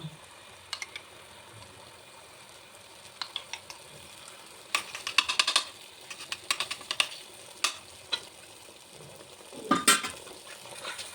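A thick coconut flower preparation cooked with ghee is stirred in a bronze pot, giving faint, irregular scrapes and soft clinks in scattered bursts over a quiet background.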